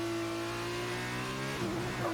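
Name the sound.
F2 car engine revving in F1 2019 video game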